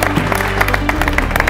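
An audience claps continuously as a sportswear brand founder is called on stage at an event, a dense, loud burst of many hands with a low hum beneath.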